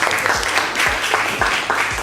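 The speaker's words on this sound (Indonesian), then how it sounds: "Tepuk tangan juga." A classroom of students applauds a classmate, a loud, close, steady patter of clapping with a few thumps underneath.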